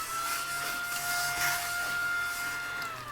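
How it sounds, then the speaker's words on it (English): A vacuum cleaner runs continuously against an old book during repair, a steady close whine with a high tone and brushy hiss as the nozzle rubs over the pages. "let me hit it with the vacuum one more time"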